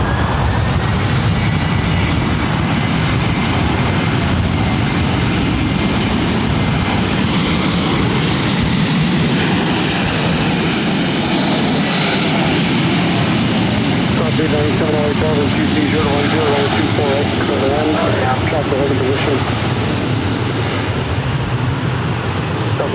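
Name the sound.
Delta Airlines Boeing 737-900ER taking off to Minneapolis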